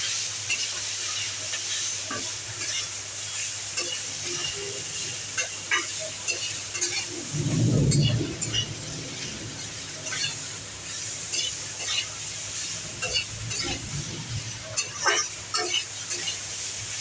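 Spices and vegetables (carrot, beans and potato) fry in a pan for a vegetarian curry, with a steady broadband sizzle, scattered clinks of stirring and a louder scraping burst midway; faint talk is present briefly.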